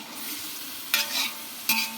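Ground chili paste fries in a pan under a constant soft sizzle, with two sharp bursts of scraping as it is stirred.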